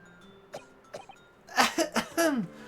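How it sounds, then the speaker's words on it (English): A character coughing up blood in The Great Ace Attorney Chronicles video game: a few faint isolated sounds, then a close burst of rough, voiced coughs in quick succession, with no spoken words. "I seem to have coughed up more of my fun blood."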